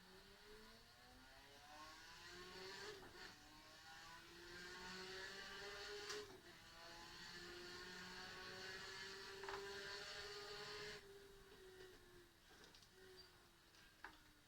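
An older car without ABS, driven hard on a flying lap, accelerates with a faint, smooth engine note. The pitch climbs through the gears with short dips at each shift, then fades near the end.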